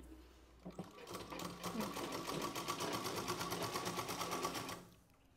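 A sewing machine stitches a blouse in one fast, even run of rapid needle clatter lasting several seconds, starting abruptly and stopping with a quick wind-down.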